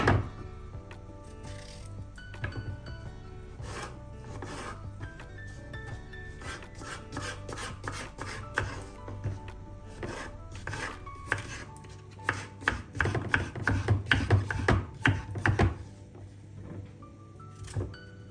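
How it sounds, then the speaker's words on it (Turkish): Rapid, rhythmic knife taps dicing zucchini into small cubes on a cutting board, close and crisp, speeding up into dense bursts toward the end. "hemen şöyle küçük küçük küp küp doğruyorum"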